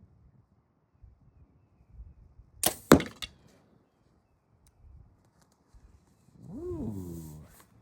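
An arrow from a Matthews Lift X RS compound bow with a 50-pound draw strikes a target in one sharp, loud crack with a brief rattle, set between quiet stretches and followed by a faint murmuring voice.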